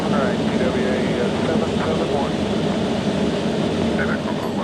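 Passenger jet engines roar during takeoff, a loud, steady broadband rumble with a continuous whine that holds throughout, while a voice talks faintly underneath.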